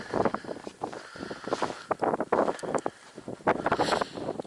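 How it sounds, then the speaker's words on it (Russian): Strong, unbroken wind of about nine metres per second buffets an ice-fishing tent during a winter smelt-fishing trip, a loud rough roar with gusty flapping bursts throughout and no speech. "9 метров, короче, дует сейчас без передыха вообще, без остановки."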